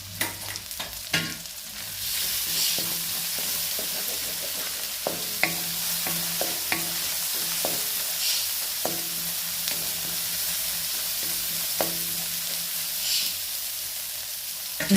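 Frying and stirring in a pan while cooking country chicken curry Bai-home style, with steady sizzling and repeated scraping clicks of a ladle against the pan, close and fairly quiet, without talk.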